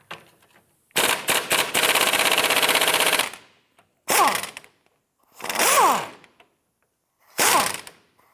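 Ratchet with an 18mm swivel socket breaking a rusted bolt loose on a 2005-2007 Ford 500 control arm: a long harsh burst of rapid clicking, followed by three shorter separate bursts with gaps between, close and loud.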